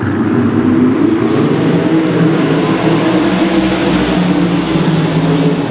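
Sprint cars charge into a turn on a dirt oval, a loud, dense, continuous roar of several high-revving engines blending together close by, with no pause throughout.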